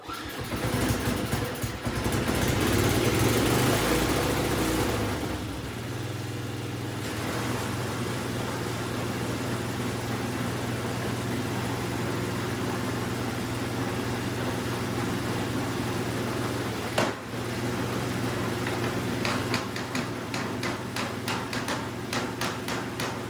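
A 30-year-old Craftsman snowblower engine runs steadily with its auger spinning, a loud close mechanical drone with a rougher surge at the start and one sharp knock partway through.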